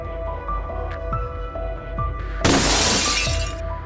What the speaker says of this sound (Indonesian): Benda itu menghantam kaca depan mobilnya sampai retak parah